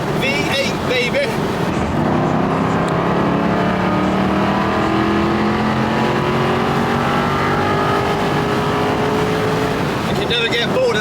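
Aston Martin V8 engine accelerating hard on an open drive, a loud continuous rising roar with climbing engine tones close by, wind noise throughout and talk at the start and end.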